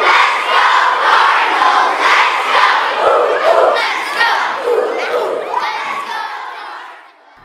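A large crowd at a high school pep assembly roars and cheers in a sustained, loud wave of shouting that fades out at the end.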